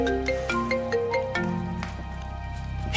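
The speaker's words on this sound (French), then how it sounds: "C'est un téléphone qui sonne." A mobile phone rings with a bright, repeating electronic melody, close and clear, a run of short stepped tones with no one speaking over it.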